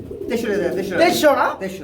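Pigeons coo close by in soft, throaty bursts, mixed with a person talking over them.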